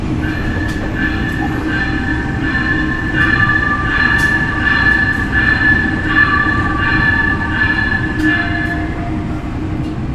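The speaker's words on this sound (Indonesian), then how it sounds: "kereta api Logawa telah tiba di stasiun Pasuruan." The Logawa passenger train rolls into Pasuruan station loudly with a steady rumble, squealing wheels and brakes, and rhythmic clanks as the cars pass close by.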